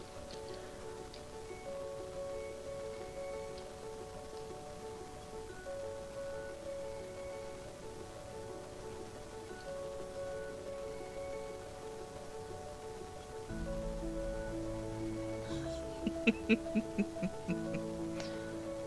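A rain sound effect plays on a chill creative-writing livestream: a steady, soft patter blended with a low background hum and sustained tones, shifting partway through, with a few light ticks near the end and no talking.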